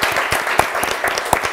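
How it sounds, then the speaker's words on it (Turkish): Short burst of studio audience applause on a Turkish quiz show, brisk close clapping with individual sharp claps standing out. "Bir alkış alalım kendisine."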